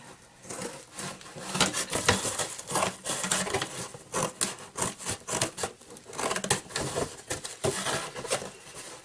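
Blade cutting down the sides of a box for a DIY storage tote, making a close, rhythmic series of rasping, scraping strokes that repeat steadily throughout.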